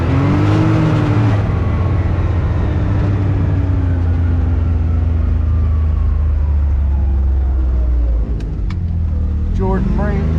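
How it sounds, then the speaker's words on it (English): A UTV drives along a trail, its engine a loud, steady drone close by with shifting pitch, plus brief clatter near the end. "we'll take a little ride out the trail here, back 20 minutes or so"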